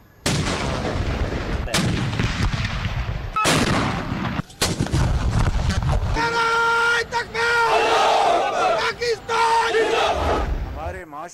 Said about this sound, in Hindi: दिन के आगाज पर इस्लामाबाद में 31 और सूबाई दारुल हुकूमतों में 21-21 तोपों की सलामी।